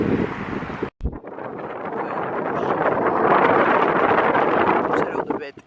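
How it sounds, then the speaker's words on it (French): Wind buffets the microphone on a hot, bright beach day, a rough, breathy roar that swells and gusts after a brief cutout near the start. "Il y a un petit peu de vent"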